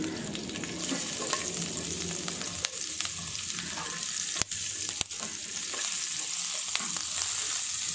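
Cut green chillies fry in hot oil with a bright, continuous sizzle and spatter, close up. A few sharp clicks and knocks from the pan or spoon break in around the middle, and no one talks.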